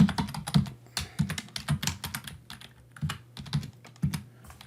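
Typing on a computer keyboard while entering an email address and password to sign in to a Zoom account, with close, irregular bursts of key clicks and short pauses between them, no voices.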